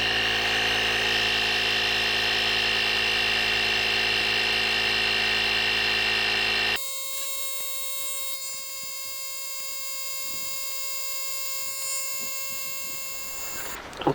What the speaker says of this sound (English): Okay, the compressor's just cut out.